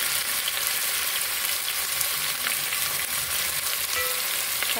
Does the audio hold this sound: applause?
no